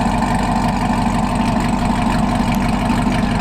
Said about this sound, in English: My car's not too loud, but it's like a nice deep idle.